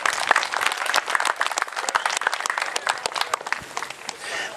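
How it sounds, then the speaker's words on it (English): Crowd at a Tea Party event in Dover, New Hampshire applauds, a lively spread of individual claps mixed into steady clapping that tapers off near the end. "Ladies and gentlemen, big round of applause for Nancy Gerlich."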